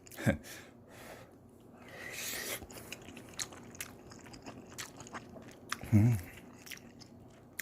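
Someone chews ramen cooked tteokbokki-style with plenty of green onion at a seaside island camp, close, wet bites and squishy mastication in irregular bursts, with a couple of louder crunchy bites.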